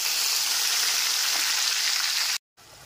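A paste of tomato, ginger and green chili sautés in oil over a medium gas flame, making a loud, dense, continuous sizzle that cuts out abruptly before resuming briefly.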